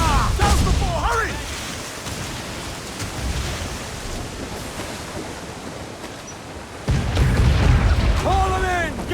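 Ship cannons firing in Assassin's Creed 4: Black Flag naval combat: deep booming blasts over a constant wash of sea and wind noise, with a loud burst near the end and game voices shouting.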